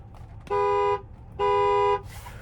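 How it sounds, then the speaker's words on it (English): A 2019 Chevrolet Impala LT sounds its horn in two loud, steady honks of about half a second each, close by, with a short gap between them. "There's the horn."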